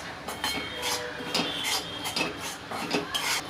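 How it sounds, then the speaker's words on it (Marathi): Semolina roasts in a kadhai over a low gas flame, with repeated metallic scrapes and clinks of a spoon against the pan in an irregular stirring rhythm, close and moderately loud. "त्याला आता मी बारीक गॅसवरती व्यवस्थित भाजून घेणार आहे."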